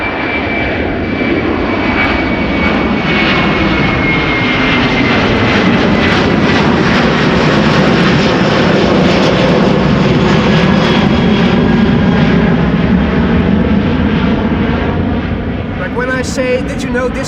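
A Turkish Airlines airliner passes at Amsterdam Schiphol Airport, its engine noise loud and close, swelling through the middle and trailing off, with shifting whine tones as it goes by and a voice talking over part of it.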